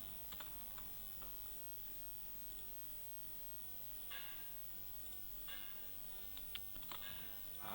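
Quiet computer keyboard typing in MS Paint, a few soft scattered key clicks and brief bursts against a low steady background hiss, fairly faint and close, with no voices.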